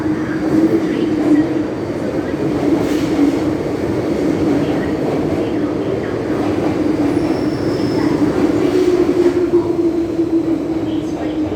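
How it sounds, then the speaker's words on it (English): MTR Tsuen Wan line M-Train pulling into a Hong Kong station platform, a loud steady rumble of wheels and motors with faint squeals, while a recorded announcement plays over it. "前往中环的列车即将到达。"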